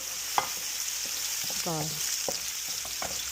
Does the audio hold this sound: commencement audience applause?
no